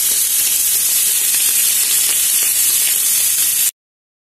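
Irish club steak sizzles and fries steadily in a pan with garlic and rosemary, a loud, continuous hiss that holds evenly for several seconds before cutting to silence.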